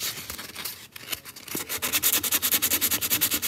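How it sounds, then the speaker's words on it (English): Resin art piece being sanded by hand with 220 grit sandpaper: scattered rubs at first, then a steady run of close, rhythmic scratchy strokes growing louder. "this is 220 sandpaper, and I'm going to just sand this down real quick."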